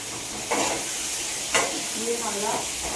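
Beans and carrots are tipped into a pan of frying onion, tomato and dried red chilli, giving a steady sizzle with a couple of sharp stirring scrapes and a brief voice murmuring near the end.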